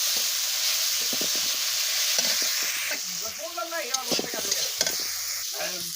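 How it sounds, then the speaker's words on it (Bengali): Taro-flower vegetables fry with onions in a pan, hissing in a loud, steady sizzle with stirring scrapes. A voice briefly talks over it partway through. "পেঁয়াজ ভালো করে ভেজে সবজিটা বসিয়ে দিলাম এবার একটু শুকনো করে ভেজে নিলাম"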